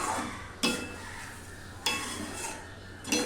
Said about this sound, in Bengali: সবজিগুলো দিয়ে সর্ষের মধ্যে একটু নাড়বে